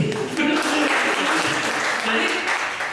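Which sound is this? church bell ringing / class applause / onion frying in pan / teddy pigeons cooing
class applause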